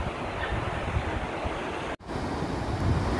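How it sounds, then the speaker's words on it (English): Ocean surf at South Daytona Beach, Florida, heard as a steady loud wash of breaking waves mixed with gusty wind noise on the microphone, with one brief dropout. "this is the ocean's South Daytona Beach"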